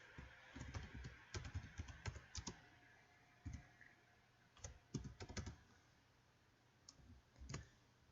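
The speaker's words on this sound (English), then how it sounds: "I'm having to stop and concentrate on typing something." Someone types on a computer keyboard while setting up a Shabbat prayer service livestream: quiet, close key clicks arrive in irregular bursts with short pauses between, and no one speaks.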